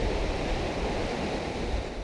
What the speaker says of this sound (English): Ocean sounds